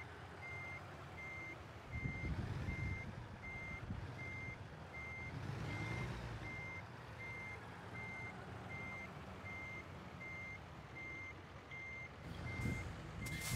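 Reversing beeps from a truck in American Truck Simulator, a steady series of evenly spaced electronic tones repeating throughout over a continuous low engine rumble, with no talking.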